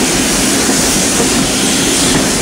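Thomas the Tank Engine steam train running at the East Somerset Railway, a loud, constant rumbling roar of rolling carriages and wheels heard from on board or very close, with no talk.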